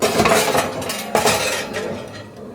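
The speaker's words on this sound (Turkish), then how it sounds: "Şimdi fırına yerleştiriyorum" A baking dish of cauliflower clatters as it slides into a preheated oven, with a couple of metallic scrapes and clinks of racks and cookware up close.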